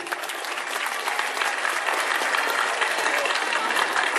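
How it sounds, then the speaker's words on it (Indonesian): An audience at a gathering of santri gives Paman Birin a sustained round of applause: steady, dense clapping from many hands that fills the whole stretch at an even level. "Kita tepuk tangan untuk Paman Birin."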